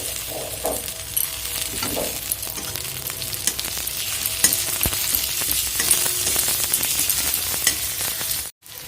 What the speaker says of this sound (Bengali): এবার টমেটোটা দিয়ে দিলাম